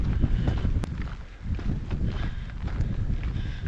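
Wind gusts steadily across a trail in Big Bend National Park, buffeting the microphone in a loud low rumble that dips briefly and then surges back, with no voices.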